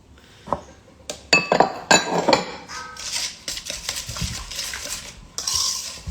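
Utensil scraping and clinking against a bowl while flour is mixed into lemon slice batter, a run of sharp close knocks and clatters followed by steady, softer stirring, with no voices.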